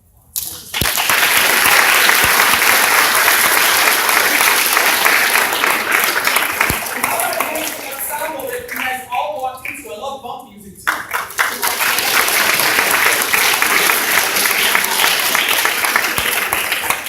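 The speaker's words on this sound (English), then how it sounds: "let's just another round of applause." An audience at a school music honors ceremony breaks into loud sustained applause that dips briefly with a voice heard partway through, then swells again into full clapping.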